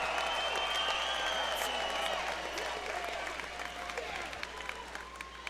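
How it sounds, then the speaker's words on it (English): Crowd applause after an MMA bout at a Shamrock fight event, with a dense steady wash of clapping that starts full and slowly thins, alongside faint tonal background and some murmuring. "let's give both of these fighters a big round of applause"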